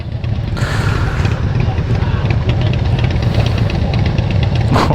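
A steady, rumbling Harley-Davidson motorcycle engine idles and throbs continuously up close, a low pulsing drone filling the whole stretch.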